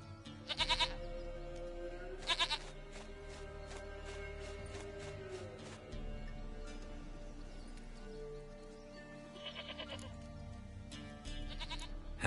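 A goat in The Witcher 3 bleats in several short, clear bursts spread across the stretch, some doubled, over a quiet game ambience with a soft background tone and no voices.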